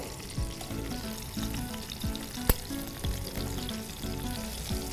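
Stuffed bitter gourd (karela dulma) frying in ghee and being turned: steady close sizzling with repeated soft scraping strokes and one sharp clack from the spatula midway.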